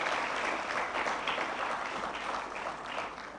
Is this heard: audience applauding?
yes